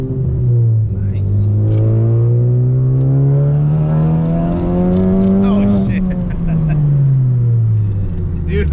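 A 2018 Honda Civic Type R accelerates hard, its engine note climbing steadily in pitch through a long pull before easing off, loud and close from inside the car with no talk.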